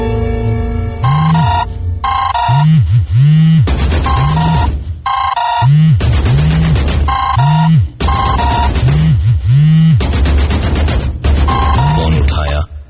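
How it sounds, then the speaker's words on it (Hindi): A switched-off mobile phone suddenly rings loudly, its electronic ringtone playing in repeated bursts of warbling tones with short gaps, close and continuous through the whole stretch. "उसका स्विच ऑफ किया हुआ फोन"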